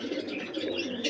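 Pigeons coo in a soft, low, murmuring stream that stays continuous and fairly close throughout the short moment.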